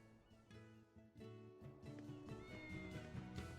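A cat meows in the video game Tales of Berseria, several tonal, wavering meows close up over a soft layer of game music.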